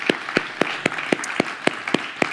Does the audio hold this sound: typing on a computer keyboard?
no